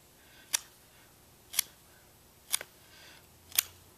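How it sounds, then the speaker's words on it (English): A pocket knife point cuts a small divot into a wooden bow-drill fireboard, giving four sharp, evenly spaced scraping clicks about a second apart, close and crisp against a quiet background. "you want to make a small divot into your fireboard"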